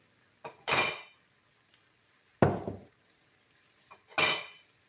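A spoon knocks and scrapes against a pan while a flour mixture is stirred for pork ribs with pork fat, three separate clattering bursts with quiet gaps between them and no talking.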